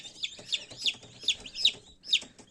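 Newly hatched chicks in an incubator peep in a quick series of about six bright, high chirps at a steady, close, moderately soft pace.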